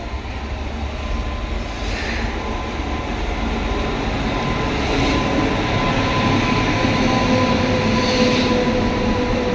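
Loud, steady rumbling drone of a train at a crowded railway station, a continuous heavy roar with faint tonal hum and no voices.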